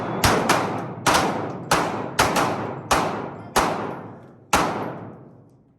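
Pistol shots ring out at a timed shooting competition, roughly nine sharp cracks in quick uneven succession, some in close pairs, each with a short echoing decay, loud and near with no talking.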